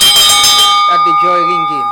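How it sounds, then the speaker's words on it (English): A handbell rung up close opens with a loud, bright clang that rings on for about a second before voices take over beneath the fading tone. "You dey ring this bell for we."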